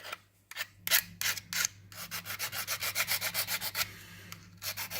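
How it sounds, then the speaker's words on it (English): A file and sandpaper rasp back and forth over metal to strip its coating, a series of rhythmic, close, harsh scraping strokes that speed up into quick regular passes, then pause before resuming. "of the metal sanded down where the coating is removed so the solder will stick to it"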